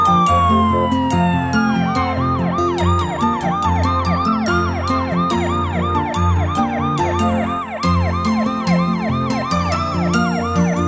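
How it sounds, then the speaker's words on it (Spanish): Cartoon ambulance siren from a children's toy-vehicle show, a rapid, repeating wail pulsing in quick up-down sweeps, loud and steady over bouncy background music for about ten seconds. "Ambulancia."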